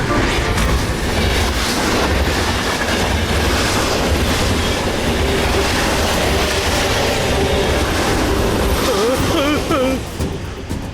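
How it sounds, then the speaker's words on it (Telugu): In a cartoon, a driverless tanker train loaded with highly flammable oil speeds along the tracks. Its loud, continuous rumble and clatter fill the scene, with a dramatic voice sounding over it near the end. "ఒక ట్యాంకర్ ట్రైన్, అది కూడా హైలీ ఇన్ఫ్లేమబుల్ ఆయిల్ తో డ్రైవర్ లేకుండా వేగంగా వస్తోంది."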